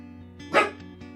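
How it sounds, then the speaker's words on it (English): A dog gives a single short bark indoors, fairly faint and somewhat distant, over a steady low electronic hum. "That's the dog."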